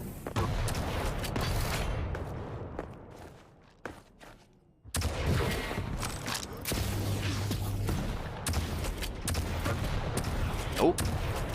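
Rocket fire and weapon blasts in a Quake Champions tournament match, a run of sharp overlapping explosive bursts with a brief lull midway, mixed under excited commentary.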